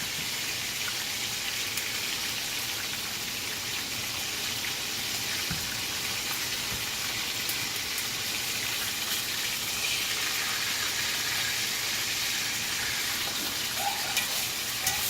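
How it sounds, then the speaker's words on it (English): Wet food sizzles and crackles steadily in a hot frying pan, a dense, continuous hiss that stays close and fairly loud throughout with no pauses. "they're sizzling like that because they're wet"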